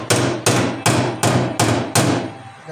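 Six loud, evenly spaced hammer blows ring out on the metal body of a 1977 Datsun B210 during welding repairs, each strike sharp and resonant with a short decaying clang, close by.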